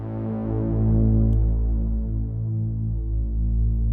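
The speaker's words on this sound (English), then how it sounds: "a saw pad, like an Oberheim saw pad," A sustained, buzzy low sawtooth synthesizer pad in the style of an Oberheim holds steady with a thick, droning tone, played alone at moderate loudness.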